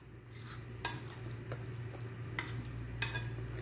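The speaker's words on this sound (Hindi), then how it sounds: "बस इसको अच्छे तरीके से मिक्स कर दूंगी मैं।" A spoon stirs yogurt and milk into a mutton marinade in a bowl, with a few soft clinks and scrapes over a low steady hum.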